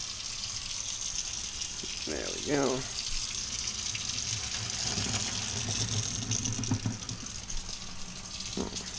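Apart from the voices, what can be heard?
cold water running while draining a pot of cauliflower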